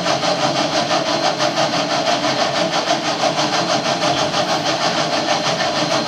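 A railway locomotive engine runs steadily at a 2011 railroad historical society event at the George Bush Presidential Library in College Station, Texas, giving a loud continuous rumble with a fast even pulsing throb, close and with no speech.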